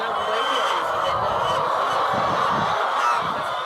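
Hens in a crowded poultry farm raising eggs produce a dense, continuous wash of clucking and squawking from many birds at once, steady and fairly loud throughout.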